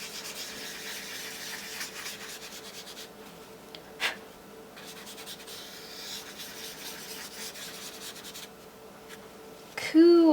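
Toilet paper rubs over pencil shading on paper to blend it, a soft continuous scratchy swishing with brief pauses, close up, ending in a louder rustle.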